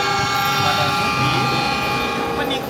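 A train passes close by in a railway video game featuring Indonesian CC203 and CC201 locomotives, giving a loud, steady engine drone with droning tones throughout.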